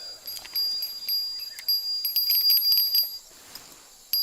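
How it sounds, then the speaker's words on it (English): A dinner bell rings in the Fishing Planet fishing game with bright, high, metallic dings struck repeatedly in irregular clusters, fairly close and with quiet gaps between runs. "The dinner bell's going as well."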